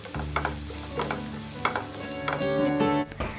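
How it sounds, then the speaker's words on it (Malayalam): Chopped shallots with four cut green chillies are stirred in a frying pan, a close sizzle broken by repeated scraping and clattering strokes of a spoon, with a humming tone in the background. "ഒരു 4 പച്ചമുളക് കട്ട് ചെയ്ത് ചേർത്ത് കൊടുക്കാം. എന്നിട്ട് ജസ്റ്റ് ഒന്ന് ഇതൊന്ന് ഇളക്കി യോജിപ്പിക്കാം."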